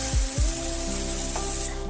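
A pressure cooker whistle releasing steam while daliya khichdi with makhana cooks: a loud, steady, forceful hiss that fills the whole two seconds, with no talking.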